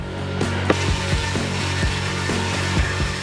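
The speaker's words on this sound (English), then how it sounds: "I'm going to sand them down just a little bit to remove any splinters or burrs" Cut wooden boards for a twin loft bed frame are sanded to remove splinters and burrs, a steady close abrasive rasp with repeated rhythmic strokes and knocks.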